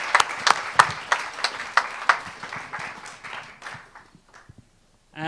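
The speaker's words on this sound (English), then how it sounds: "Give a round of applause." Audience clapping for players walking onto a stage at a live interactive game show, starting with loud separate claps that thin into a scattered patter and die out, followed by a brief sound at the very end.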